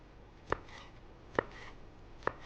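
Three sharp knife strokes through green bell pepper, cutting it into thin strips on a board, spaced about a second apart and close by with no talk.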